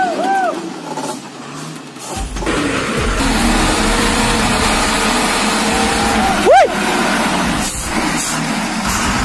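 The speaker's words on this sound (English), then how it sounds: "Powerful trucks transport wood to where it's needed, ensuring a timely supply of raw materials for factories and construction projects." Powerful timber trucks hauling wood rumble and rev steadily throughout, with an engine swell and a brief air-brake hiss near the middle, under a continuous roadside roar.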